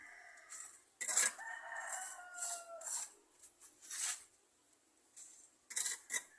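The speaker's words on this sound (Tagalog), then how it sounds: "Mga tandang." Roosters crowing in a backyard flock: several long, drawn-out cock-a-doodle-doo calls, some nearer and some farther off, overlapping with scattered clucks and soft noise, with no talk.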